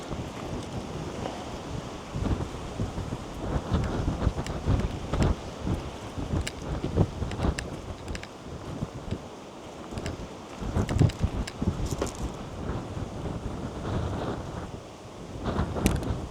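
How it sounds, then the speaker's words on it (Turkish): Strong outdoor wind gusting through snow and rain, rough buffeting bursts against the microphone that swell and ease, loud and close, with no voices. "acayip de bir rüzgar var"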